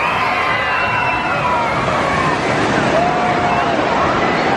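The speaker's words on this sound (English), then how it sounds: "let's catch one more wave here" Wave pool surf at Disney's Typhoon Lagoon water park: a steady broad wash of rushing water with wind and a distant crowd murmur throughout.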